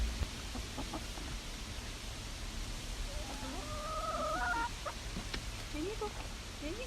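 Chickens heading back into their coop cluck and chirp in short bursts at moderate distance over a steady hiss of background noise.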